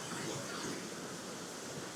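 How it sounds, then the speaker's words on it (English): Water flows steadily down a small woodland cascade, a constant soft rushing wash at low level with no other sounds and no talk. "Listen to the sound of the water."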